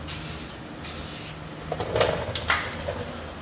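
Two short hissing bursts of paint from a spray can, close by, used on the parts of a 1979 Chevrolet G-20 van, followed by some light clattering and handling noises.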